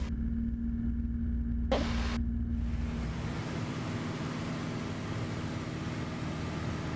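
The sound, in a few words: small airplane engine at full throttle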